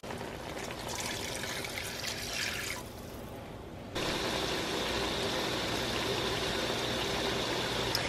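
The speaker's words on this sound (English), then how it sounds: "I'm gonna add all of this marinade back in along with 2 cups of water" Marinade and water poured into a pot of pork belly adobo, a continuous splashing trickle that briefly softens, then returns as a steadier, fuller stream.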